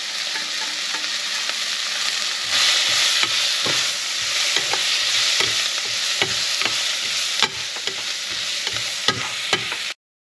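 Chili powder and turmeric sautéing in a pan with onions, a steady close sizzle broken by repeated sharp scrapes and clinks of a spoon stirring, no voices.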